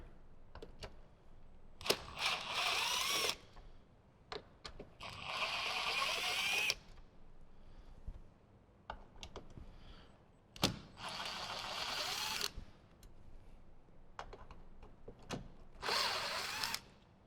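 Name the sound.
removing T25 screws from Jeep JL plastic trim panel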